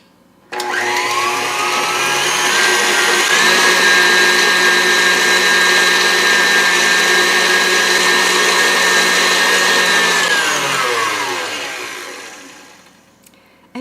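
An electric hand mixer whirring loudly and steadily through German cheesecake batter made with quark and lemon, its motor pitch shifting once before winding down, close up and without talk.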